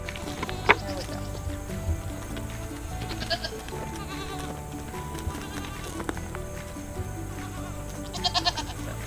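Goats bleating in a farm setting, a few short calls scattered among handling noises and people talking nearby, with a brief louder cluster of bleats near the end.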